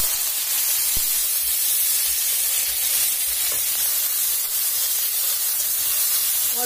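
Garlic and dried fish sizzle in a little oil in a pan, a steady close-up hiss and crackle that stays even throughout, with no talking.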